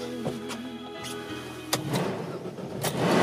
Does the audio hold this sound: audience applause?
no